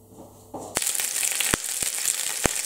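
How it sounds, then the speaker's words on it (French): Quail browns in a large pot. After a brief quiet start, a sudden sizzle breaks out and stays steady, with a few sharp pops and crackles close by. "Donc je vais faire revenir mes cailles dans ma gamelle pour qu'elles soient dorées."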